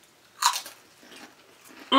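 Someone takes a loud, close bite of Lay's Kettle Cooked Flamin' Hot Limon potato chips, giving one sharp crunch followed by softer chewing, and a voice cuts in at the very end.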